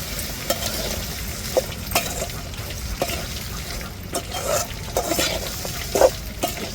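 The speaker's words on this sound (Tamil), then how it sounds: "இப்போ நம்ம தாளிப்பில் எல்லா காய்கறியும் சேர்த்தாச்சு." Mixed vegetables sautéing in a pan of tempered oil, with a spoon stirring and scraping in repeated strokes over a soft, steady sizzle, for a hot breakfast dish, alone with no voices.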